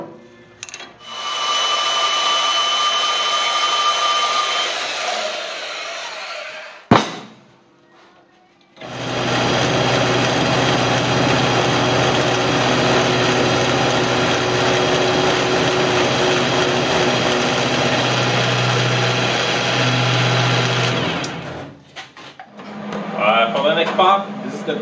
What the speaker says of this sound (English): on the milling I'm going to take the final pass so that it can have the exact depth I want to have